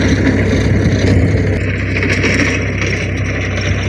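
A tractor pulling a sugarcane weeder through a field runs with a steady, loud, droning engine hum, unloaded and even, with a slight shift in tone partway through and no talk.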